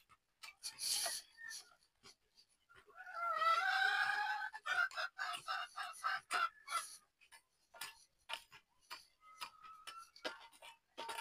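A chicken clucks and crows in short bursts with scattered clicking sounds, no one speaking, fairly close and moderately loud.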